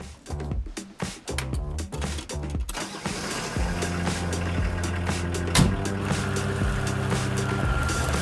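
Pinzgauer expedition camper engine cranks through several rough starter bursts, then catches into a steady, close diesel-like idle with a low rhythmic throb that holds to the end, a brief knock near the middle.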